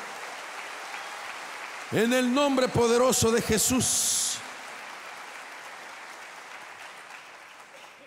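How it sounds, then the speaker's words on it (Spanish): A church congregation claps steadily as a continuous wash of applause in the background, while a preacher speaks loudly over it for a few seconds. "Dele palmas al Señor de la gloria"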